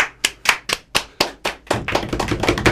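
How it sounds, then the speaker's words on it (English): Hands clapping in a radio studio: a slow run of six or seven crisp, evenly spaced claps, close and loud, then a quicker, denser patter of overlapping claps as more people join in. "am I meant to clap as well?"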